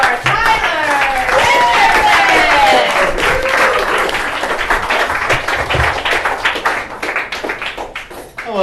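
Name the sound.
comedy club audience clapping for a comedian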